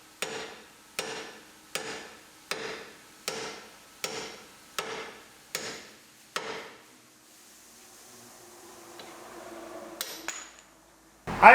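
Old ball joints on a Yukon truck are struck out with a hammer: eight sharp, evenly spaced metallic blows ring close and loud, followed by a quieter pause with faint rattling and a couple of final knocks.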